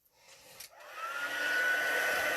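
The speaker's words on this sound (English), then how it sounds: "So we're going to go in with the heat tool again." A heat tool for embossing powers up from quiet, its fan whine rising within a second into a steady, loud rush of hot air that holds to the end, with no talking.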